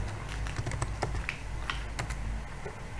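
Keys clatter on a computer keyboard as someone types into a Jupyter notebook, a quick irregular run of close, fairly quiet clicks over a low background hum.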